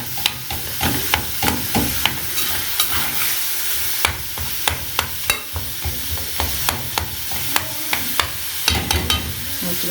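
Frozen minced meat stirred and broken apart in a frying pan for white pasta, with a steady close sizzle and repeated sharp scraping clacks of the utensil against the pan throughout.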